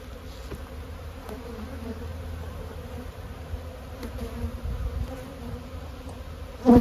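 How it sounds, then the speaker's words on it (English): Honey bees hum and buzz steadily at close range over a hive frame, a dense continuous drone with no voices. "The bees are busy repairing damage done to them"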